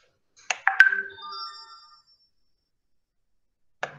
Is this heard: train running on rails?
no